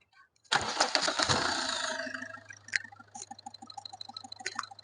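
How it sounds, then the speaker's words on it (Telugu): A 2015 Toyota Etios VXD diesel car catches on a single crank, with a loud burst of starter and combustion settling into a steady close idle with rhythmic ticking. No speech is heard. "సింగిల్ సెల్ఫ్ లేదు బండి స్టార్ట్ అవుతుంది"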